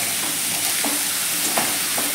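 Cauliflower pieces stirred into spices in a hot pan, soft sizzle under a few scraping spoon strokes at irregular intervals, close and alone.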